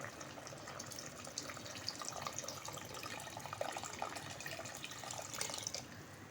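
Water pours steadily into a pot of black pepper beef boti with yogurt and spices, a quiet continuous splashing stream with no voices.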